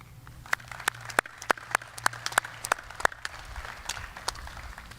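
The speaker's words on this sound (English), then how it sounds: "I'd like to give a big round of applause to all the parents, grandparents, and guardians for all you have done" Sparse, scattered claps from a small graduation ceremony audience, a handful of sharp distinct hand claps in loose irregular rhythm, moderately near against quiet background, thinning out toward the end.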